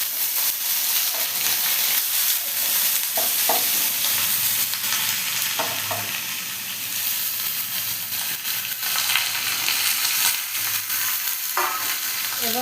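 Chopped potatoes tipped into a hot pan for a Bengali potato curry, giving a steady close sizzle and frying hiss with a few stirring scrapes, alone and without speech throughout.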